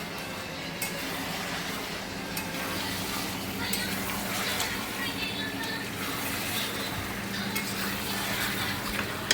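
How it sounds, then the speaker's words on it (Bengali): Meat sizzles steadily in a hot pan on a home stove while a spoon stirs it, producing a continuous loud frying hiss with occasional scraping clinks and no pauses. "রান্না বান্না শুরু হয়ে গেছে, মাংস কষাচ্ছি।"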